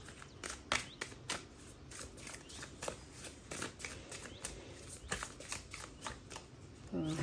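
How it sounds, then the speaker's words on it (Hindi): A deck of tarot cards being shuffled by hand, quiet repeated riffling and slapping bursts in an irregular rhythm, close and alone with no talk. "शफल करते करते काफ़ी सारे कार्ड्स जो हैं वो थोड़ा मिस्ड अप हो जाते हैं"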